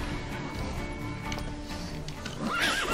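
Roach, the horse from The Witcher 3, whinnies in a rising, shrill neigh near the end, following faint hoof clip-clops and game ambience.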